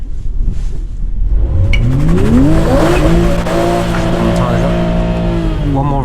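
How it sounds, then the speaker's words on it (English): A Stage 1 Evolve tuned Toyota A90 Supra doing a burnout, its engine revving hard and climbing in pitch over loud tire spin and roar, close and sustained throughout. "It does burnouts really easily, this car."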